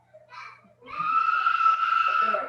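A child screams loudly in the background, starting with a short cry and then a long sustained high-pitched wail that runs to the end, slightly distant under a low hum.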